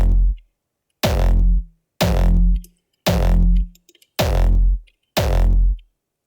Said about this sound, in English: So in this kick example, it might be hard to hear, but there is a resonating tone in the low mids